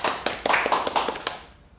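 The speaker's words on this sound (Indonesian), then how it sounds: "Berikan tepuk tangan untuk Pak" A short burst of applause for a speaker at a protocol talk event, with several people clapping together near at hand before it fades out quickly.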